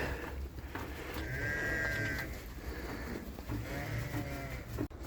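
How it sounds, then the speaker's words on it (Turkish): Several sheep bleat across a steady outdoor pasture background, one long bleat standing out clearly near the middle with shorter calls around it. "Koyunları da bırakıyorum."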